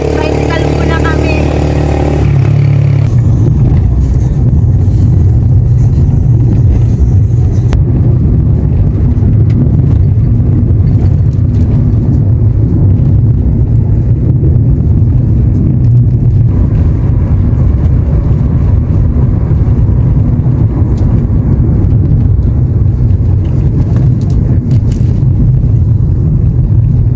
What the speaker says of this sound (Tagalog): Tricycle muna kami.